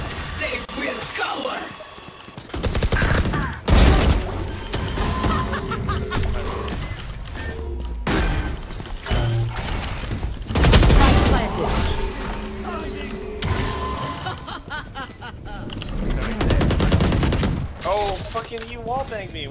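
Bursts of rifle fire from Valorant on the Haven map, with a Vandal and other guns shooting through walls, come in rapid volleys between excited talking from players.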